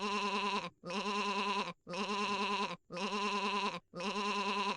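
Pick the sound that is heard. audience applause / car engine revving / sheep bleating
sheep bleating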